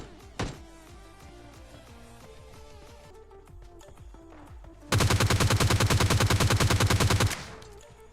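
A rapid burst of automatic gunfire in the mobile shooter PUBG Lite, loud and sustained for a couple of seconds, preceded by a single isolated shot and quieter game sounds.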